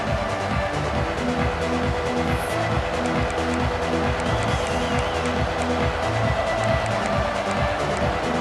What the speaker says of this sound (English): This place is roaring